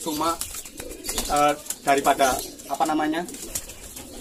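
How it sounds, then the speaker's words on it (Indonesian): Repeated cooing bird calls, close and clear, come in short bursts while a person speaks briefly. "Ini saya sebenarnya suka sama burung ini"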